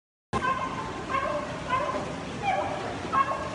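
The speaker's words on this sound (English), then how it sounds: "those are just basically dogs" Dogs barking somewhere in the background: a string of short, repeated barks and yips about once every second, moderately loud over a low hum.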